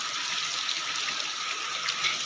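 Heavy rain with big drops pours down in a steady, close, dense hiss that never lets up, with no voices over it.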